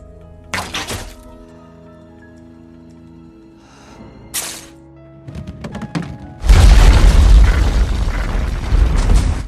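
Explosion of stockpiled supplies in the 2012 Hunger Games film: scattered thuds and bursts lead into a loud, deep, rumbling blast that keeps roaring for several seconds.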